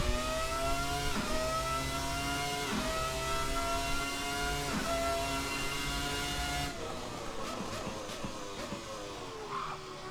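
A Ferrari F300 Formula One engine in the racing game Assetto Corsa screams at high revs in a continuous, loud whine, with brief dips at each shift before settling into a slightly lower, rougher tone near the end.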